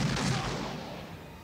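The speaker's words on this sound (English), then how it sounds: "Don't fire the gun while you're talking." A gunshot from the film Naked Gun rings out as a loud, sudden boom with a short rumbling tail that fades over about a second.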